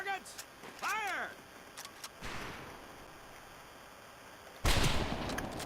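Rifles fire at targets on a training range in Medal of Honor Pacific Assault: two sharp, loud reports, the second near the end trailing into a rumbling tail, with a short whistling ring early on.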